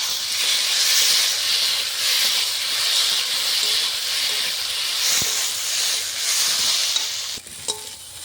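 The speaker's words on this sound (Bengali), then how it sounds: "এখন আমি লঙ্কা বাটাটা দিয়ে দেবো।" Chili paste hitting fried potatoes in a pan while cooking a hilsa fish curry with eggplant, a loud continuous sizzle and hiss that ends with a few clinks of a utensil.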